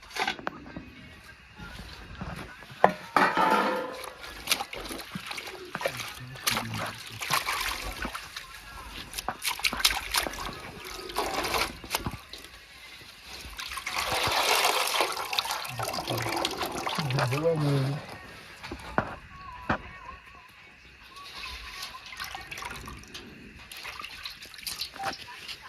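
Fresh coriander and mint leaves being washed by hand in water, with intermittent trickling, splashing and sloshing over nearly half a minute, close by, with a voice talking at times.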